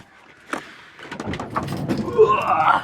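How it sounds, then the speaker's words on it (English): A Volkswagen Transporter T5 van door is shut with a sharp thunk, then rustling, shuffling and handling noise, with brief voice-like sounds rising toward the end. "Close the door."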